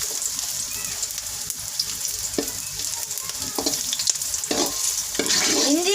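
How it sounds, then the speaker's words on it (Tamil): Ginger and pirandai (adamant creeper) roast in a pan with a continuous frying sizzle and repeated scraping strokes as the pieces are stirred, the sizzle growing a bit louder toward the end. Nobody speaks. "இது ரெண்டு மட்டும் வறுக்கணும், இஞ்சியும் பிரண்டையும்"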